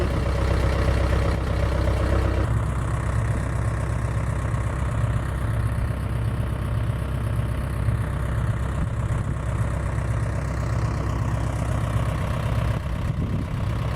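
An Ursus tractor engine idles steadily for the whole stretch, a low continuous rumble that shifts slightly in tone a couple of seconds in.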